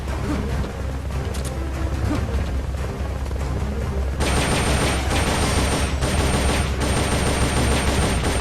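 Sustained gunfire in Metal Gear Solid Peace Walker, first a dense rattle of shots and then a louder, harsher continuous barrage with crashing impacts, steady and close throughout.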